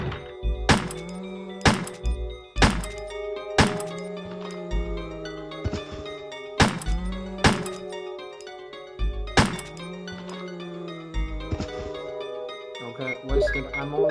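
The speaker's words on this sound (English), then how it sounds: "Not sure why I fired the extra shot." Gunshots in Resident Evil Director's Cut ring out as a series of sharp, loud single bangs spaced a second or two apart, each with a short echoing tail and game music beneath.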